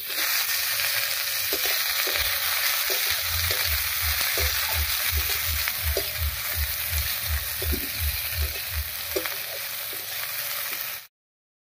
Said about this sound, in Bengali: ফোড়নের সঙ্গে পেঁয়াজটা বেশ লাল লাল করে ভেজে নিয়েছি